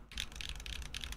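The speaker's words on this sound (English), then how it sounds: "Alright, let's test this keyboard out first." Faint typing on a mechanical keyboard fitted with Bad Seed Tactile switches: a few quick clusters of light keystrokes clack in short bursts against a quiet background.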